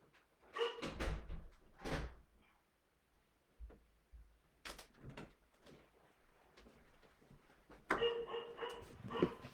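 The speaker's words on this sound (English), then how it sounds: "You can hear the dog barking now as well" Indoor dog barking in several separate bursts, some sharp and loud, with thumps like a door or cupboard between the barks.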